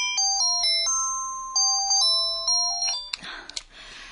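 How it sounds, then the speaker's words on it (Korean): A mobile phone rings with a bright electronic melody of stepped tones, repeating its tune for about three seconds before a burst of noisy rustling takes over near the end. "그때 설이의 휴대폰이 울렸다."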